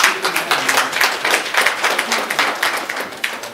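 Dense applause from a banquet crowd, many hands clapping at once in a loud, continuous patter that stays steady throughout.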